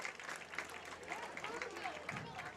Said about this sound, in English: There's a hand for the ambulance that's going by.